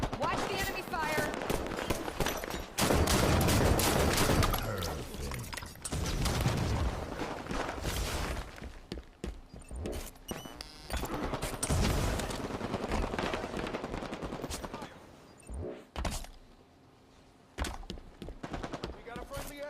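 Enemy gunfire in the video game Halo crackles in repeated bursts and single cracks, loud at first and then scattered and thinner, mixed with game effects and people talking over it.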